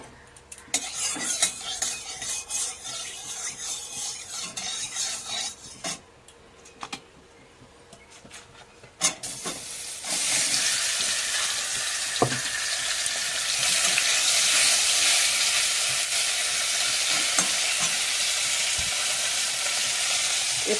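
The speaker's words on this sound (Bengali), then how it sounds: "মাছে লবণ হলুদ মাখিয়ে নিয়েছি, এবারে ভেজে নেব।" Shrimp rubbed with salt and turmeric go into hot oil in a wok: first quieter utensil clatter and scraping, then a loud, bright, continuous sizzle that swells and stays strong to the end, close and without speech.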